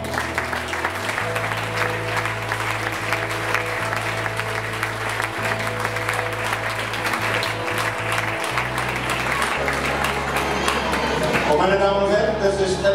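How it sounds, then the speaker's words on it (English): An audience applauds triathletes at a Triple Iron-distance triathlon event, a continuous loud crowd clapping under steady music with a low drone, while an announcer's voice runs through it. "All of them deserved equal attention and applause from the audience."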